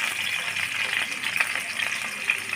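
Chicken pieces frying in oil for a chicken roast give off a steady, even sizzle with faint crackles, close and continuous throughout.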